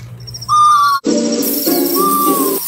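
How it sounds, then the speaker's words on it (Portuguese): A plastic toy fishing owl gives two high, whistle-like hoots, the first short and the second longer and gliding, over a steady low hum. "Uma coruja pescadora de plástico. Não é à toa que ela é tão barulhenta."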